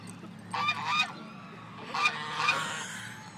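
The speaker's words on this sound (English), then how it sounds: "If this goose attacks my dog" A goose gives two bursts of harsh, nasal honks about a second apart, fairly close and moderately loud over quiet outdoor background.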